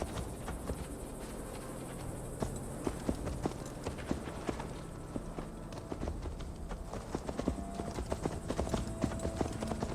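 Horse hooves clip-clopping at a steady trot while riding in Assassin's Creed Valhalla, close and continuous with a soft ambient backdrop and faint background sounds.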